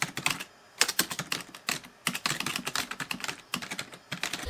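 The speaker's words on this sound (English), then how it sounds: "Even the keyboard offers a satisfying click and responsiveness." Computer keyboard on an IBM NetVista X40 being typed on in rapid clicky bursts with short pauses between runs, close and clear with no voices.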